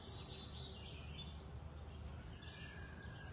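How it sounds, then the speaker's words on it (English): Small birds chirp faintly outdoors in nature, scattered high tweets over a quiet background hiss with no talking. "and being able to sit in nature and hear the birds chirping."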